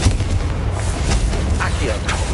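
A Confringo spell blast in the Hogwarts Legacy video game: a loud, sustained burst of fiery crackling with a few sharper hits along the way.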